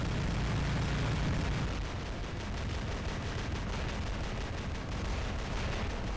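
Heavy robot weapons firing during War Robots gameplay, a dense continuous rumble of booming blasts and explosions layered over game noise, loud and steady without clear gaps.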